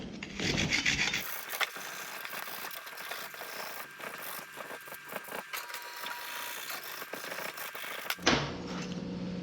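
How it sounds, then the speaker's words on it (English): Wire brush scrubs aluminum panel surfaces to clear oxidation and dirt, a close, scratchy rasping of quick irregular strokes with brief pauses, bracketed by louder handling noise at the start and end. "wire brush. I only use this one on aluminum."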